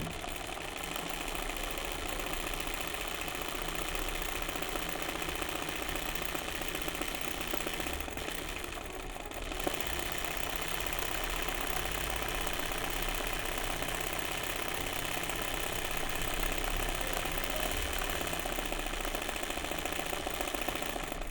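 A sewing machine runs a wide zigzag stitch over a hole as embroidery mending, making a continuous close mechanical whir with a brief pause midway.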